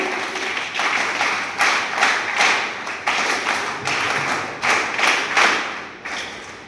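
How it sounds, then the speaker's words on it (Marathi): NSS volunteers at a college foundation-day event clap together in a patterned rhythm, bursts of group claps repeating in regular clusters with short gaps, loud and close, no talk. "आपण सर्व एन एस एसच्या स्वयंसेवकांनी एकदा स्वतःसाठी म्हणून एन एस एसच्या टाळ्या द्याव्यात"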